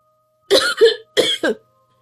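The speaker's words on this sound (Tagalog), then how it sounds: "Ate, umuubo ka na naman" Four harsh coughs in two quick pairs, close and fairly loud, with no other sound around them.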